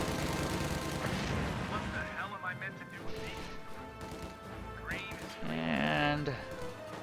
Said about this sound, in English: falling low from mortar fire